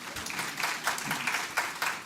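A seminar audience gives brief applause, a soft patter of scattered hand claps heard at a distance, quiet and short.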